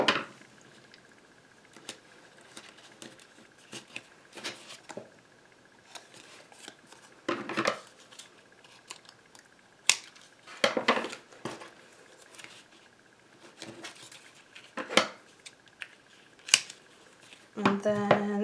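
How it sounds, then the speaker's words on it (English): Scissors snip through pieces of foam tape during card making: crisp, close, irregular clusters of cuts separated by quiet pauses, ending in a faster run of snips. "And let's grab some yucky scissors. We'll cut some pieces here."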